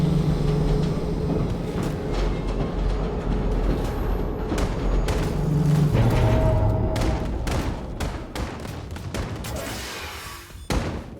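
A train in the video game Wolfenstein II starts up with a loud, continuous mechanical rumble and hiss, broken by sharp metallic clanks and bangs that grow sparser toward the end.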